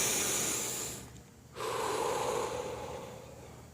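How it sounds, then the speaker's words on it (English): Deep belly breathing during an exercise drill: a strong breath, a brief pause, then another long, close airy inhale or exhale. "Breathe into your belly, not into your chest. Deep breaths."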